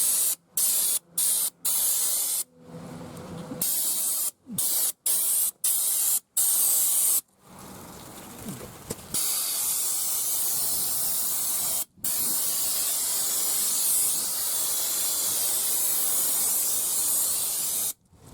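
A pressure sprayer applies rust protection to a truck at 130 PSI, first in a series of short hissing bursts, then in one long continuous loud spray with only a brief break.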